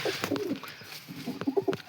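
Pigeons cooing nearby in soft, repeated low throaty calls, with light rustling and flutter in the background.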